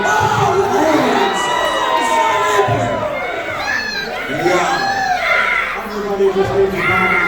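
Wrestling show crowd shouting and cheering, with high-pitched children's voices whooping and yelling in a loud, continuous chant-like roar.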